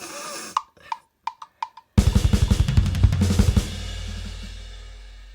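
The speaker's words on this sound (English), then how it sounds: "It doesn't really matter as long as you're hitting the toms in a crazy notation." Programmed drum pattern in GarageBand for Norwegian black/thrash metal: a few sparse hits, then a rapid, loud burst of tom rolls in irregular, chaotic rhythm that ends in a ringing decay.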